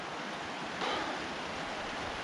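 A mountain creek in winter rushes along in a steady broadband wash, close and continuous, with a slight surge partway through and no voices.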